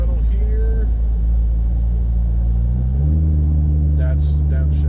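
A 2023 Chevy Silverado with a 2.7 turbo engine and its muffler and resonator deleted drones loudly and deeply on the road, the exhaust note swelling and stepping up as throttle is applied.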